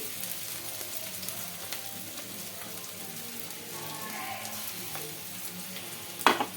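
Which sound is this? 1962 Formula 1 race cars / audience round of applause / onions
onions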